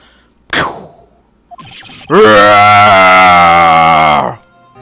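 A short sharp cry is followed by a long, loud, drawn-out wail that holds for about two seconds before cutting off abruptly.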